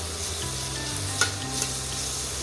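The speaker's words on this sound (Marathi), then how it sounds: "कांदा मऊ होईपर्यंत आपल्याला फक्त परतून घ्यायचं आहे" Chopped onion sautéing with chillies in a pan for a Koli-style dried bombil and potato dish, a steady soft sizzle with a couple of brief spoon scrapes, close and continuous.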